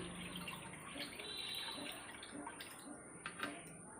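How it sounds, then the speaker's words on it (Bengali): A kitchen tap running with a slow, weak flow while rice is washed, giving a steady soft hiss of water with a few faint splashes and clinks toward the end, no voices. "জলটা যে কি আসতে পরে কলে, রাগ উঠে জায়গা।"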